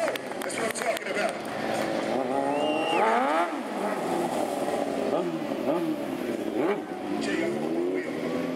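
A Kawasaki Ninja motorcycle revs and wails through rising and falling engine notes during an outdoor stunt show in the rain, with an announcer talking loudly over it and crowd noise behind.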